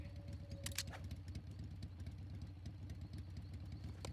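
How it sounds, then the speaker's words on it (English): A vehicle engine idles in Metal Gear Solid 3 with a low, steady, faint throbbing hum, joined near the start by a short metallic jingle. "Cut the engine off already"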